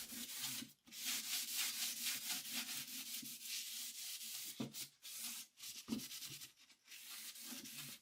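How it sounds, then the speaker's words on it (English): Steady rhythmic scuff sanding of painted furniture, back-and-forth sandpaper strokes with a few brief pauses, close and fairly loud. "After I completed the scuff sanding, to remove the dust"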